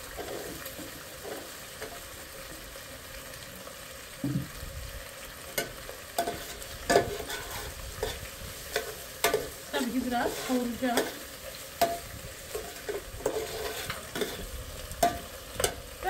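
Thinly chopped potatoes sizzling and crackling in a hot pan while being stir-fried, with scraping and clattering bursts over a steady frying hiss; a brief word is spoken.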